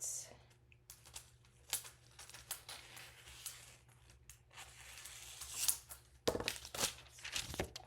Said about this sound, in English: we just want to measure a sheet of our foil that's the same size as our panel. And so let me cut this out